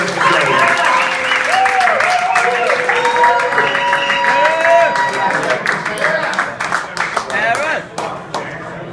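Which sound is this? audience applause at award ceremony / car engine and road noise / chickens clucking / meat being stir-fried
audience applause at award ceremony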